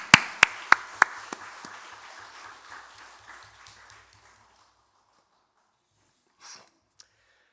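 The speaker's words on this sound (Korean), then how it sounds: "우리 큰 박수로 잘 갔다 와라 축복하겠습니다." A church congregation claps at a Sunday service, opening with a few sharp claps that swell into brief, scattered applause and fade out within about four seconds, followed by quiet and a couple of faint stray sounds.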